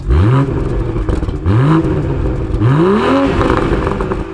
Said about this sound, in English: you get this really intoxicating wail, and when the gearbox upshifts at the end of that, you get this little spurt of noise from the exhaust